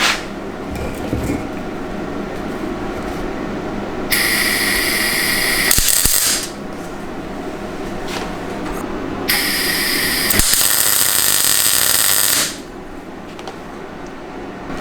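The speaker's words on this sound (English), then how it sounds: "On the lowest setting, I've put a little blob of weld on here" MIG welding on a mild steel patch in a BMW E30 floor pan, 0.8mm wire with CO2/argon gas on the lowest setting: two steady crackling, buzzing bursts of about two and three seconds, loud and close over a low background hum.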